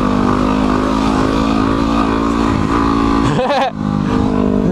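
A motorcycle engine drones loudly and steadily throughout, close to the rider, with a brief surge and dip in the sound near the end.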